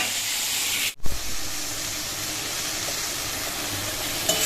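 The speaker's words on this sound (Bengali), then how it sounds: "আর এদিকে ভাত ফুটে গেছে।" Rice boiling in a pot gives off a steady, broad steamy hiss, close and constant, broken by one short gap and a bump near the start.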